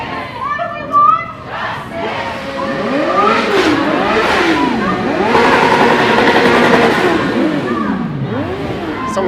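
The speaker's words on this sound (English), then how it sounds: "Someone's just revving the shit out of their motorcycle up ahead here." Loud, repeated revving of a motorcycle engine up ahead in a downtown Toronto street during a protest march, rising and falling pitch sweeps over crowd chanting and voices nearby.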